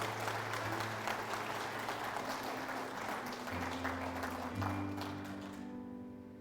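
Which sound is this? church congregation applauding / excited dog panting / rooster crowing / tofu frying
church congregation applauding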